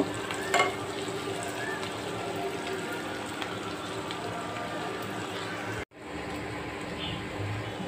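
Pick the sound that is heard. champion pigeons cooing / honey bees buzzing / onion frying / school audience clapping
onion frying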